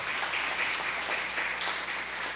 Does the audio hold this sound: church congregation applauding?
yes